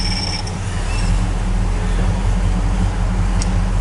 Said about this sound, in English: just hear how quiet this car runs